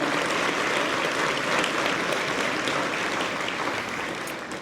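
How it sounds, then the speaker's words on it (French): Sustained applause from a banquet audience at an agricultural hall of fame gala in Quebec, honouring diamond-category partners: dense, steady clapping that fills the room throughout and tapers slightly at the end, with no voices over it. "Mesdames, Messieurs, applaudissons nos partenaires de la catégorie diamant."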